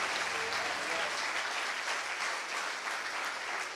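A church congregation applauds continuously in a dense, even wash of clapping from many hands, steady from start to finish with no talk over it.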